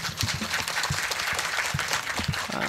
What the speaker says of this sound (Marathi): टाळी वाजू वाटली तरच वाजवायची